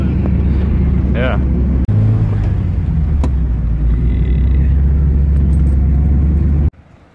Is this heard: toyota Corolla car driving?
yes